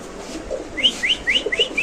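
Lahori pigeons cooing close by, a run of five or six short rising calls coming in quick succession, with low murmuring coos underneath and no talking.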